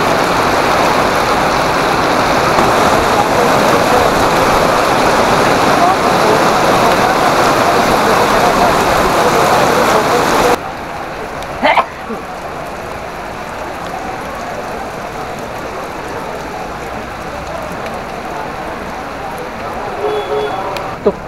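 Heavy rain pours at a large outdoor gathering at Dikshabhoomi in Nagpur, a loud dense hiss for about ten seconds before cutting to a quieter scene with faint background sound and a voice talking.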